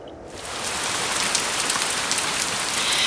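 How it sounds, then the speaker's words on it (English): Heavy rain pours down on a surface in a dense, steady hiss of countless drops, swelling slightly after a quieter start and continuing loud and unbroken. "rain poured down on the house and on Ma and Mary and Laura and Carrie"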